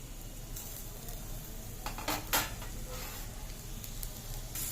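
Faint, steady sizzling of beetroot pieces frying in oil, with a few soft crackles and a brief stir partway through.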